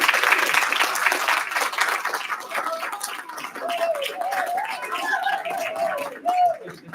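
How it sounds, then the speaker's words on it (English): Audience applause at a city school board meeting: a dense burst of clapping for a few seconds that fades out as a voice starts talking. "That is a round of applause worthy for sure."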